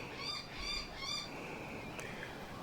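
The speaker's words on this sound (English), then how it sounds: "Bird harassing the cat." A bird calls while harassing a cat: a few quick, bright chirps repeat in short bursts over a faint, steady outdoor background, with a single sharp squawk near the end.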